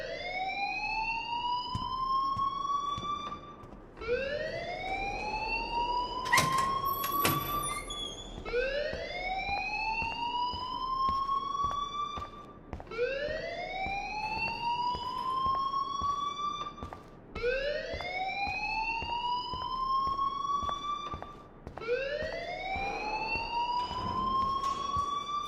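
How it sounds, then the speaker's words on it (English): A fire alarm in the video game Life is Strange, a loud repeating rising whoop that cycles about every four seconds throughout, with a brief bright chime partway through. "please turn off that alarm since that's your job"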